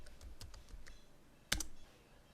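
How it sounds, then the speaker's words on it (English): A computer keyboard typing a short command at a terminal prompt: a few quick, light key clicks, then a firmer, louder keystroke a moment later, close and clear against a quiet background. "type exit at command prompt"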